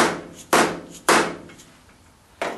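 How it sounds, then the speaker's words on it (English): A dead blow hammer strikes a swaging press adapter nut three times, each a sharp, close, solid blow with a short decay, spaced unevenly. "I take my dead blow hammer"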